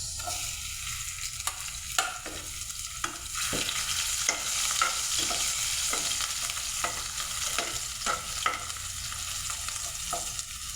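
Food frying in a pan and being stirred until browned, a steady sizzle with repeated sharp clicks of the utensil against the pan, continuous at moderate loudness with no talk.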